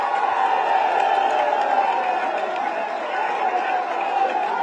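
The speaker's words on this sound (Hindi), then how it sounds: "आप सबकी तरफ से मैं चाहता हूं उनका भी जोरदार तालियों से आप स्वागत करें" A rally crowd at a Samajwadi Party event applauds and cheers to welcome Akhilesh Yadav, with dense, steady clapping and crowd noise that holds at full strength throughout.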